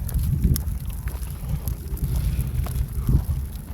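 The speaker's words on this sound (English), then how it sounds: "It is a windy day." Steady wind buffets the microphone with low rumbling gusts, rising and falling in strength, with no voices.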